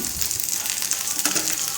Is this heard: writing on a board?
no